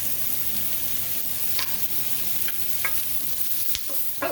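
Onions frying in browning butter in a hot pan, a steady broadband sizzle with occasional sharp pops and spits, close and continuous, no talking.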